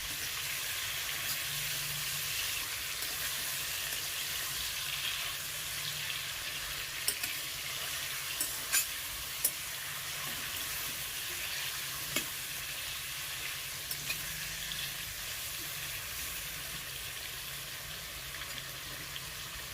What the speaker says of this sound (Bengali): পাঁচ মিনিট মতো এই তেলটাতে এই চিকেনটাকে আমি ভেজে নেব